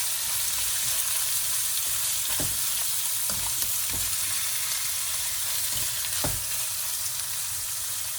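Spiced shrimp sizzle and fry steadily in a pan, a dense continuous crackle with a few soft clinks and stirring knocks scattered through, close and alone without talk.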